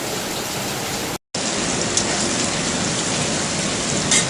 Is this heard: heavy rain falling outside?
yes